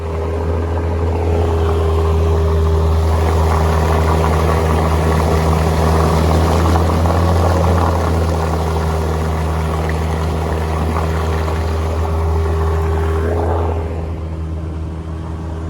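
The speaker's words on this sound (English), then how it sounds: "when I turn, you'd hear it rev up. Yep, blowing out." A Mercury 9.9 outboard motor on a jack plate drones loudly and steadily, its pitch rising slightly as the propeller blows out during a turn, with a continuous engine roar throughout and no talking.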